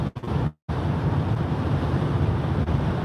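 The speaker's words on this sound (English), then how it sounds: "It's windy as fuck right now," Strong wind in Colorado roars and buffets continuously against the microphone, a dense low rumble with one brief dropout near the start.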